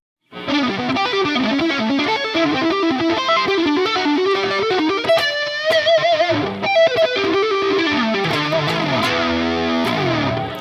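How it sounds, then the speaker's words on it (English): Electric guitar through a NUX Trident multi-effects unit playing fast melodic lines with a shimmering chorus effect and a spacious, arena-like hall reverb, loud and continuous. "a reverb, a large hall reverb to emulate an arena or a huge theater"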